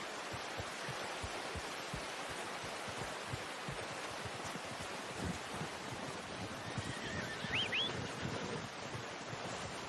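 A horse in Red Dead Redemption 2 gives a faint, distant whinny near the end over a steady rush of wind and ambient noise.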